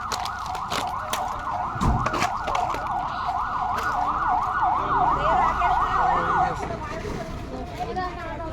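Loud, steady wailing from a fire engine siren as it arrives, cycling up and down for about six seconds before it cuts off, with voices and street noise around it.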